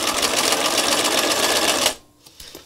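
A sewing machine stitching a fabric spiral for a flower craft, running loud and steady up close with a fast rhythmic chatter, then stopping, followed by faint small handling noises.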